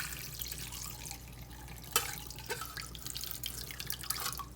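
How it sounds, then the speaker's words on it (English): Liquid from a pot of Haitian black rice with djon djon mushrooms is poured through a strainer, a steady wet splashing and trickling with a few sharper splats, moderately quiet and continuous. "You just pour it in and you strain it."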